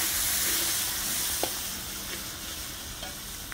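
Mango curry cooking outdoors in a backyard on a fireside chulha, with a soft steady sizzle and a few light stirring knocks, fairly quiet and close, with no voices.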